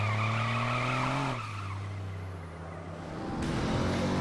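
Tires squealing and skidding in a car chase in the video game Driver San Francisco, a loud sustained screech over a revving engine that dips in pitch, eases and then swells again, with no voices.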